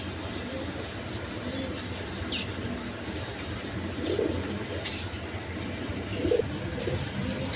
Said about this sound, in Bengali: বন্ধুগণ এখানে এক পেয়ার গিরিবাস কবুতর আছে